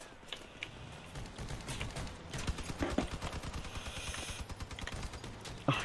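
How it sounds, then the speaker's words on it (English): Steady gunfire in the vehicle combat game Crossout, rapid repeated shots and mechanical clatter from armored cars, moderately loud and continuous with a burst near the end, no speech. "I'm still getting shot from him."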